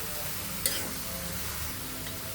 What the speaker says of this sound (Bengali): এখন ভালোভাবে সবজিগুলো লঙ্কা এবং হলুদ গুঁড়োর সাথে মিশিয়ে নিতে হবে।